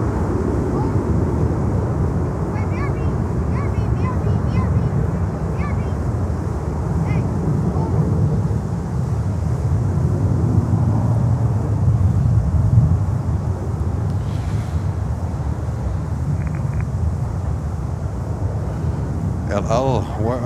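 An airplane's engines roar during a go-around, a loud, broad, continuous rumble with wind buffeting that holds steady for the whole stretch, with no clear break.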